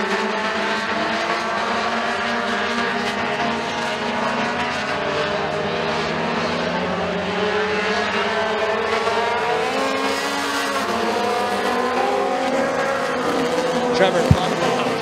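Mini stock race cars roar around the McKean County Raceway oval in a tight pack, a steady dense engine drone from several cars at once, loud throughout, with an announcer calling the race over it.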